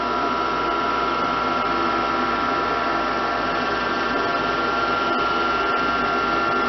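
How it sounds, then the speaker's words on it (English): A gas furnace blower in a rental home running steadily at startup, a loud continuous mechanical whir with a few faint clicks, no talking. "Just like it should, the blower turns back on."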